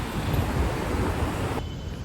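Steady, broad wind noise rushing across the microphone on a hot day of walking in Makati, with a low rumble that continues without pause and drops away slightly near the end.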